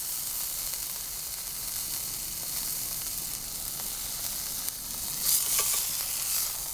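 Sous vide pork chops searing in an outdoor pizza oven, a steady faint hiss and sizzle with a few brief crackles toward the end, no talk.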